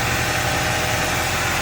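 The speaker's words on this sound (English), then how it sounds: "Hook up your battery, start it up, see if it starts. It started up pretty good." A fifth-generation Honda Prelude engine idles steadily just after a starter replacement, a close, even mechanical hum and rumble that holds without a break for the whole stretch.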